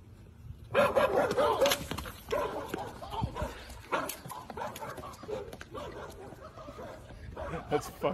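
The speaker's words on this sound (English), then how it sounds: "It's a good dog." A dog barks repeatedly in short, fairly close bursts amid other background noise, the barks irregularly spaced and moderately loud.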